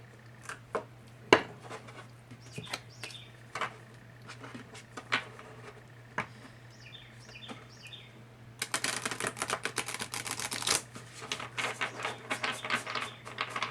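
Tarot cards shuffled and handled on a table, with soft scattered taps and slaps that build into a denser riffling rush near the end, close and fairly quiet, no talking.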